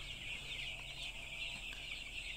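A dense crowd of four-day-old broiler chicks cheeping and clucking continuously, a steady high chatter from many birds at once, fairly close and without voices.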